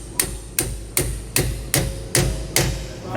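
A new rubber bushing driven onto a bolt in a tandem-axle trailer equalizer by hammer, seven sharp, evenly spaced metallic blows, close and loud, with no talk.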